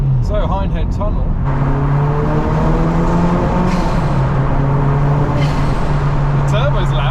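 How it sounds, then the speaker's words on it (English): Loud engine of a restored Mk1 Ford Focus RS driven through the Hindhead Tunnel, heard from inside with a steady drone, rising revs and turbo noise, with voices talking over it. "The turbo's loud."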